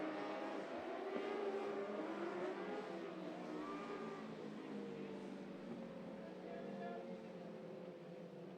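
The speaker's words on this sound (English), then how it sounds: "Caleb, there's race cars on track." 600 mini sprint race cars circling a dirt oval at Deming Speedway, a distant, continuous engine drone with rising and falling pitch as cars accelerate, faint behind the track setting.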